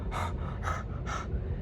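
A person imitates heavy breathing with three sharp, close, evenly spaced gasping breaths, loud and alone over a low background rumble.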